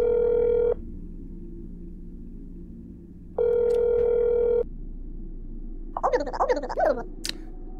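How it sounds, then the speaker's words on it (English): Phone call in That's Not My Neighbor (Nightmare Mode): two long electronic tone bursts separated by quiet hum, then a quick flurry of clicky dialing beeps near the end. "let me make a quick phone call real quick"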